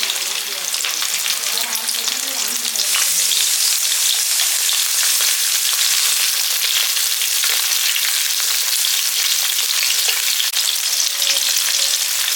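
Garlic cloves, green chillies and shallots frying in hot oil in a pan, a loud, dense, steady sizzle that runs without a break.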